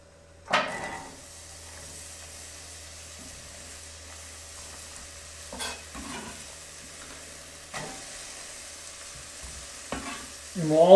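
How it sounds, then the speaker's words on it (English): Chopped onions hitting hot oil in a pan for tomato sauce, a sharp sizzle burst then a low steady frying hiss with occasional stirring scrapes and clinks. "And we're just going to throw our onions right in."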